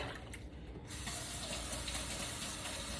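Running tap water pours steadily into a sink while chopped shrimp-dip ingredients are rinsed, a continuous broadband splash that swells after a quieter first second, with no talking.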